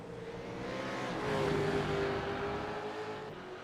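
A V8 Supercar racing engine on track builds into a loud sustained roar, its pitch rising and holding through the middle before easing slightly as the car carries on.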